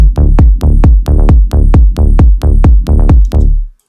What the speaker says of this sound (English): I have this little kind of womp sound that I call it a womp